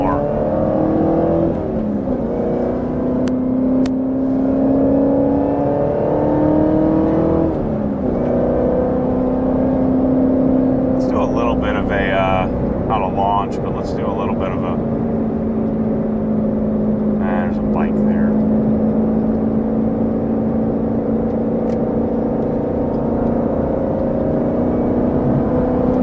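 A Carbon 65 Corvette Z06 engine drones at a steady 4,000 RPM while driving in third gear, a loud sustained tone with slight pitch shifts, under a driver talking intermittently.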